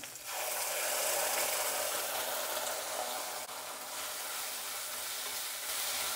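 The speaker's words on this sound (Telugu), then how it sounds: "ఈ మసాలా అనేది ఒక 2 నిమిషాలు వేయించుకోవాలండి, ఎక్కువసేపు వేయించొద్దండి." Masala spices frying in a pan with onions, mustard seeds, curry leaves and asafoetida, a steady, close hiss and sizzle that carries on unbroken, with faint stirring scrapes underneath.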